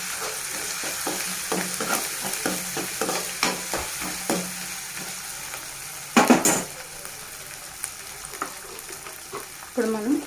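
Ginger garlic paste frying in a pan with onions for an Andhra-style taro curry, a steady sizzle broken by repeated scraping stirs and a few louder spoon clanks against the pan, close up with no talk.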